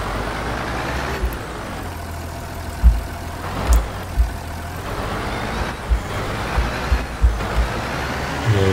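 A tractor engine in the farming game Farming Simulator 19 runs at a steady low drone, with occasional louder thumps and knocks over the continuous hum, heard alone.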